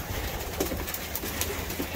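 A racing pigeon coos softly a few times in a loft, low murmured calls over a steady background hum, near but fairly quiet.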